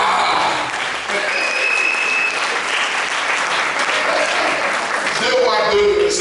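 A church congregation at a Sunday service applauds continuously, a dense, loud wash of clapping that fills the room with voices mixed in throughout.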